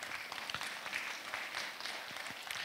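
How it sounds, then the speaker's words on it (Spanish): Soft, steady audience applause at a ceremony marking the 61st anniversary of a professional school, a continuous patter of many hands heard from a distance. "De la misma manera también los aplausos."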